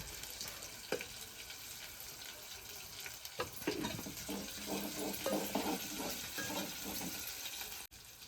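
Tadka tempering of garlic masala sizzling in a hot pan for a village-style bombil mixed vegetable dish, a steady broadband frying hiss with intermittent scraping stir clatter, close and continuous, no talk.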